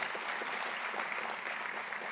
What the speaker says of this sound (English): So give him a very big round of applause.